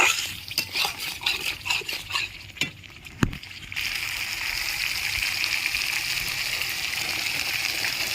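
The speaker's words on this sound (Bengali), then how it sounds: "এবার আমি পরিমাণ মতো জল দিয়ে দেবো" Water pours into a pan of cooking masala for a vegetarian paneer biryani, a steady close hissing rush that follows some stirring clatter and a sharp clink.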